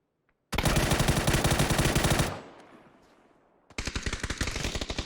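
Automatic gunfire in the battle-royale video game PUBG: a long rapid burst of loud shots that breaks off and rings away into a fading tail, then a second sharp burst starts. Close and punchy, with no voices.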